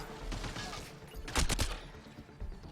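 Gunfire in the game Mass Effect: Andromeda, aboard a Kett station: scattered bursts of shots with a sharp, loud cluster of close rapid blasts partway through, set against quieter background game sound.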